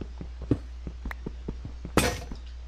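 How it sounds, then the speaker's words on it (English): Crunching, clinking hits repeat at a steady pace as a pickaxe mines blocks in Minecraft, ending in a brief shattering burst, close and fairly quiet. "we'll go ahead and break a pickaxe"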